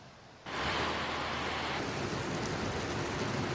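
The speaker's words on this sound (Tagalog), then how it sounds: "Ivan, buong araw maulan dito sa Ilocos Norte." Steady rain pours at a storm-damaged seawall in Pagudpud, Ilocos Norte, a dense, even hiss that starts abruptly and holds unbroken, blending with the wash of nearby surf and wind.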